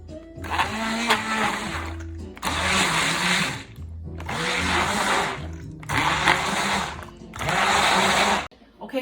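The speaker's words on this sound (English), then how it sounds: "I'm gonna use my immersion blender and break this up a little bit." An immersion blender whirs through tomatoes in a pot for pasta fagioli, five loud close bursts of motor whine with brief pauses between them, the blades churning the thick liquid.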